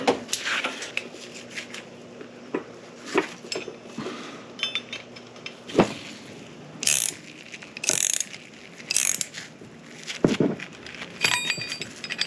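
Quarter-inch air fittings being tightened on tire inflation hoses for a four-tire inflation and deflation system, with repeated ratcheting clicks and metallic clinks in irregular bursts, close and moderately loud, no talking.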